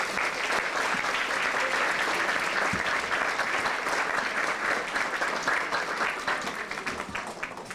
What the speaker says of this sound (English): I think a round of applause might be in order